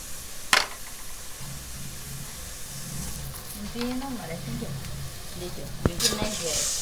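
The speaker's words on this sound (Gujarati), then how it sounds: "હવે તાવડીમાં નાખી દઈશું." Roti cooking on a hot tawa in a home kitchen, a soft continuous hiss with a few sharp clinks and scrapes, while voices talk quietly underneath.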